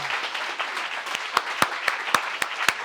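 An audience at a sales seminar clapping together, a dense patter of hands with several louder, sharper claps standing out near the end, fairly close and without speech.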